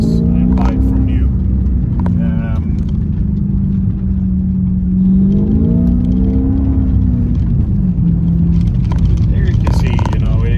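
A manual Porsche Panamera S with a V8 engine drifts in winter, its deep engine rumble rising and falling steadily beneath someone talking throughout.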